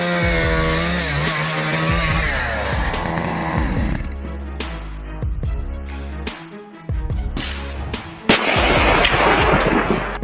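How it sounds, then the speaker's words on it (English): A large wood-splitting drill machine bores into and splits big, tough logs, with a loud, strained mechanical whine that shifts in pitch, followed by sharp cracking bursts as the wood gives way. "This wood-splitting drill, with its unique design, is capable of handling large, tough logs"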